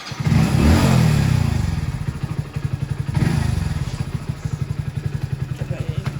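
A motorcycle engine revs up twice with rising surges, then settles into a steady, throbbing idle close by, with faint voices in the background.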